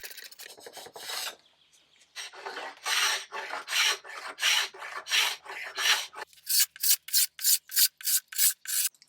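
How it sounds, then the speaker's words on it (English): A carbide scraper strips paint from a wooden table in a series of rough, rasping strokes, slow and uneven at first, then quicker and more regular, loud and close. "I scraped off the paint with my carbide scraper."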